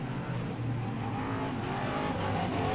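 Stock cars racing at the 1999 Auckland stockcar teams championship, a continuous droning roar of engines with rising revs, moderately distant and steady throughout.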